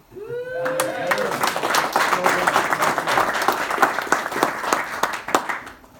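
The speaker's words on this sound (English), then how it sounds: "I don't think we gave you a round of applause, did we?" A speaker's remark fades out and an audience breaks into a round of applause for a guest at a 2019 event, dense clapping swelling quickly and holding steady with a few sharper individual claps standing out near the end.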